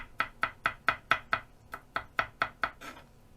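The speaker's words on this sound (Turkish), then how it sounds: "Ardından şöyle doğrayalım küçük küçük." Knife chopping on a cutting board, about a dozen sharp, evenly spaced strokes in a steady rhythm, close and clear with a brief pause partway.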